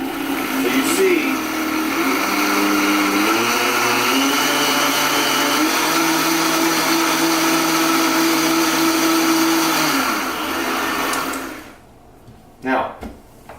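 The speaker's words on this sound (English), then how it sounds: "we're going to put this all in a blender, and this is where the magic happens" A blender whirs steadily on low, frothing coffee with butter, its loud motor drone close and continuous for about eleven seconds before it stops, followed by a brief clunk.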